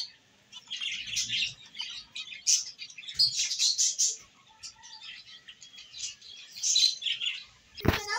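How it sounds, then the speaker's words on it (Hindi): Finches chirp and tweet in a busy, irregular chatter of short high calls, fairly close and moderately loud, with a sudden low thump near the end. "ये फिंचेस थी"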